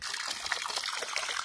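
Water pours and trickles into a backyard hockey rink liner, a steady hissing, splashing flow heard close up without pause and with no voices.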